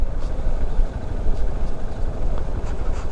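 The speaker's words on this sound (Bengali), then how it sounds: "যেহেতু বাইক অটোমেটিক্যালি চলতেছে প্যারা ছাড়াই" A motorcycle rolling downhill on a rainy road behind another vehicle, heard as a constant low, rough rumble of engine, road and wind noise, close and steady throughout.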